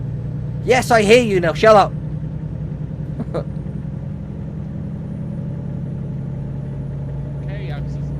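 A car engine in a driving video game gives a steady low drone throughout. Someone talks briefly over it near the start.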